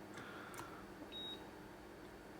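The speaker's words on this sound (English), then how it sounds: "when you hear the meter beep, you can remove the probes" A Keithley 2110 digital multimeter gives a single short, thin electronic beep on probe contact, heard once against quiet room hiss with no voices.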